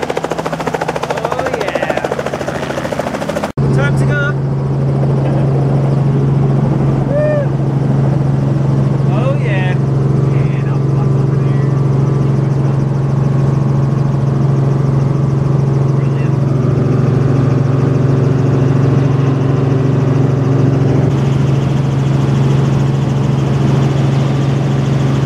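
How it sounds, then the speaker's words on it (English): Steady heavy engine drone with a low pulsing hum, loud and constant like a helicopter heard from inside the cabin, with faint voices now and then. "I've always wanted to go up in a helicopter"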